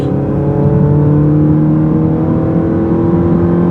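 A Chrysler 200 Sport AWD automatic, heard from inside, holds high revs before its upshift near 5,500 RPM, giving a steady, loud engine drone with strong harmonics throughout.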